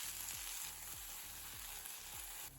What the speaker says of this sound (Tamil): ஒரு கைப்பிடி அளவு புதினா சேர்த்து லோ ஃப்ளேமில் கருகாத மாதிரி வதக்கலாம்